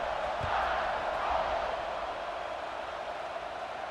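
Stadium crowd noise before kickoff in the EA Sports College Football 26 video game, a steady broad roar that holds evenly throughout with a slight swell early on.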